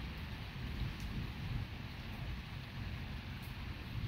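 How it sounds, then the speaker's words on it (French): Steady heavy rain falls at night during a strong, highly electric August thunderstorm near Nîmes and Alès, with low rumbling thunder underneath and no voices. "C'est la première fois qu'un orage est aussi électrique."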